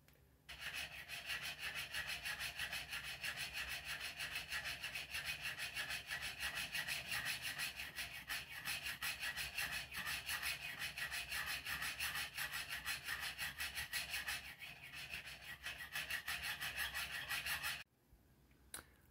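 A steel burnisher works a pivot on an Illinois pocket watch held in a Jacot tool, giving a continuous fast back-and-forth rasping rub. The sound is close and steady and stops abruptly near the end.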